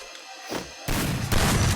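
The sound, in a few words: shotgun gunfire in the Free Fire video game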